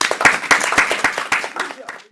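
Children on a kids' programme clap for themselves in a brisk, uneven burst of close hand claps that thins out and stops after about two seconds.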